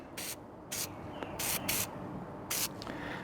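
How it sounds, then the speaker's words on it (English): Aerosol oil sprayed onto a foam air filter from a Kawasaki KLR650 motorcycle: several short hissing bursts of varying length, close and crisp, separated by quiet pauses. "just spray the outside of it good, and all the surfaces"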